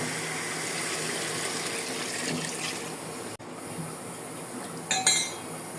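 Water is poured into a pan of browned chicken curry, a steady rushing hiss throughout, briefly cut off, followed by a light clink near the end, with no talking.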